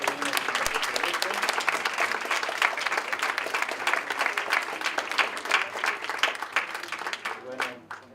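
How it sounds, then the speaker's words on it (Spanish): An audience at an educational panel discussion applauds the speakers, with steady, dense clapping throughout that fades toward the end and some voices mixed in. "vamos a pedir un aplauso para los ponentes"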